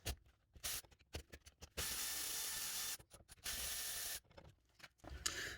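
A ratchet wrench loosens 12 mm rear brake caliper bolts on an Acura TL, with bursts of rapid clicking ratcheting between quieter pauses, close up and without speech.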